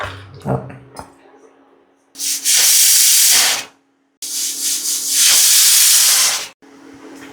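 A pressure cooker on the stove releasing steam while cooking chickpeas and lentils for Onam sadya koottu curry: two long, loud hissing whistle blasts separated by a short gap, after a few clattering knocks.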